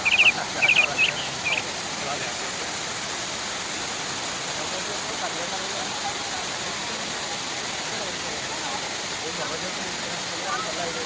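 Kothapalli waterfalls in Araku valley give a steady, moderate rush of falling water, with a few brief chirps near the start and no clear talk over it.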